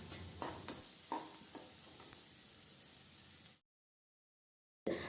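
Chopped onion and carrot sizzle in a pan, a soft steady frying hiss broken by a few stirring scrapes. It is faint and close, then cuts to silence near the end before resuming briefly.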